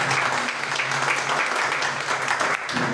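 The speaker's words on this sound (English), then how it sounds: "applause" An audience claps loudly and densely throughout, sustained applause that fills the space at close range for a speaker being introduced.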